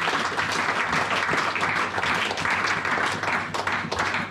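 A church congregation applauding in praise, steady dense clapping sustained throughout with a few cheering voices mixed in.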